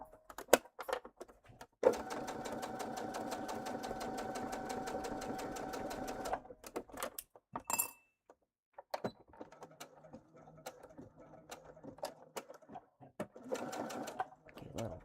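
A sewing machine runs in a steady, rapid stitching burst while back-stitching the exterior of a bag, then stops; scattered clicks and handling sounds follow, with a brief second run of stitching near the end.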